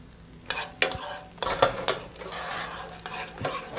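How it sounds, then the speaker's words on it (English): Stirring a cream and pecan mixture with rum in a pan: close utensil scrapes and clicks against the pan over a faint simmer, irregular strokes with no talk. "And then we're gonna give this a stir."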